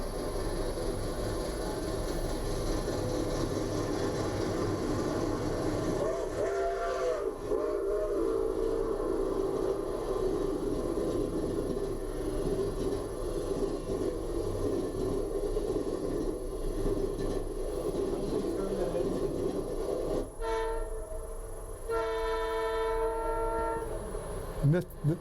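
At night in Hurricane, West Virginia, the eastbound Cardinal passenger train rumbles past, its wheels and cars rolling continuously. Near the end the horn sounds in a couple of loud blasts.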